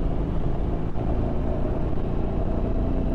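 Royal Enfield Bullet 350 motorcycle out on a ride, a continuous low engine rumble with wind noise, steady and close, no talking.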